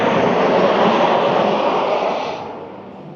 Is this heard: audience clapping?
no